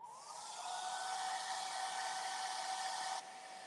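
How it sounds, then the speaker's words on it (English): A hair dryer blows on wet paint, rising to a steady, close whoosh with a faint whine that holds for about three seconds before the airflow drops off. "Let's blow dry it."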